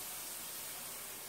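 A coated hamburger patty sizzling in a hot pan, a steady broad hiss without break, close and fairly quiet, no talking.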